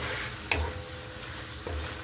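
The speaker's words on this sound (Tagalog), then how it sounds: "Haluin po natin." Food sizzles steadily in a pan while a utensil stirs it, with two distinct scrapes and clinks against the pan in close range and no one speaking.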